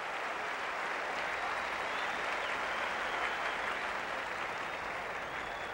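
A tennis crowd at a 1979 US Open third-round match between Vitas Gerulaitis and Stan Smith claps in sustained, dense applause. It stays even and fairly loud throughout the clip, with no speech.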